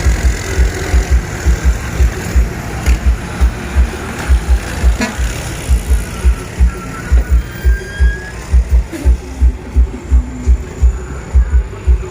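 A farm tractor engine idles steadily with a regular low thumping pulse, continuous throughout, with faint background noise and no talking.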